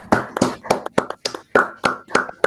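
Rhythmic hand claps closing an online academic session, about nine sharp, evenly spaced claps heard close and loud, with no talk over them.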